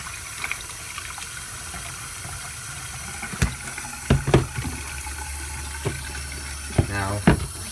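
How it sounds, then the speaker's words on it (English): Cold water pours and splashes out of a container, with gurgling spurts and a few sharp knocks and clunks against a sink. "So I'll pour out water that's still in here because it's pretty cold water."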